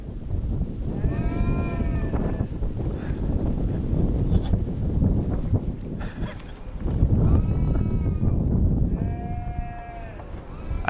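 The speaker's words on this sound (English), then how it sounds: "Look at all these goats." Bleating from a large herd of goats on a farm, repeated wavering calls in bursts at the start and again near the end, close and loud over gusty wind noise.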